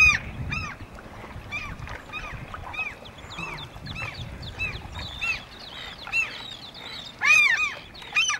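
Ducks and geese on a lake at Soldotna, Alaska, call repeatedly, with clusters of honks and quacks at varying distances and a louder burst near the end, over light water and boat noise.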